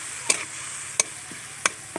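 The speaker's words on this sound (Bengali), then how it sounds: "এবার ওর মধ্যে আমি দিয়ে দিচ্ছি আদা রসুন বাটা একসঙ্গে। দিয়ে ভালো করে কষিয়ে নেব।" Ginger garlic paste is sautéed in a pan for chicken rezala, with four crisp spatula clicks against the pan, evenly spaced, over a soft, faint sizzle.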